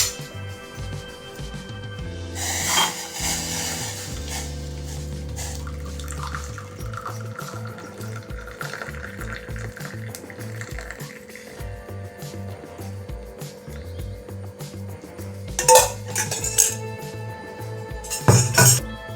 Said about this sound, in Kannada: ಇದು ಸ್ವಲ್ಪ ಸೋಸಿಕೊಳ್ಳುವ